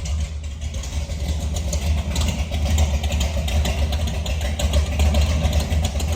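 A 1968 Ford F250 engine rumbles steadily inside a barn, a deep, continuous low drone muffled by the surroundings, holding even loudness throughout with no voices.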